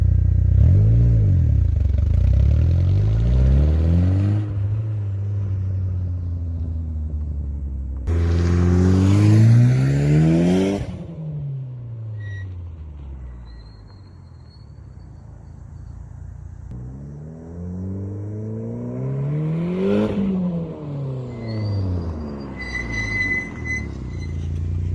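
A 2G Mitsubishi Eclipse GSX with a 16G turbo running 16 psi of boost drives and accelerates hard, engine pitch climbing through several gears in repeated rising sweeps with shifts between, loud and close throughout.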